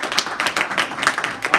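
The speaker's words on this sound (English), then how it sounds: "So let's give Veronica a round of applause" An audience applauds a young karate student at a spring black belt ceremony, with a brief burst of quick, uneven claps from a small crowd at close range.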